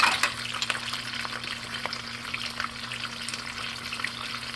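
Seasoned chicken pieces sizzling steadily in a hot pan while browning for chicken cacciatore, a continuous crackling fry with occasional louder pops.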